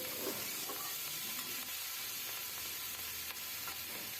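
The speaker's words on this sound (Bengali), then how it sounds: "পরিমাণ মতো হলুদের গুঁড়া দিয়ে এটাকে ভালো করে একটু মানে ভাজা ভাজা করে নেব" Spring onion greens fry with turmeric in a pan, giving a steady, soft sizzle with occasional stirring scrapes, close and unbroken, with no voices.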